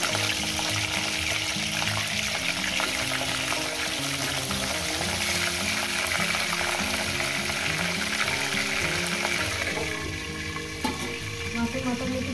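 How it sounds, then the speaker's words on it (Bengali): Fish heads frying in hot oil for a chachchari: a loud, continuous sizzle with busy spatula stirring and scraping throughout, easing slightly near the end. "মাছের মাথাগুলো না একটু ভেজে নেব"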